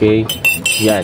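Metal spoon clinking against a cup while coffee is being prepared, a few sharp bright clinks close up, with a person speaking briefly over them.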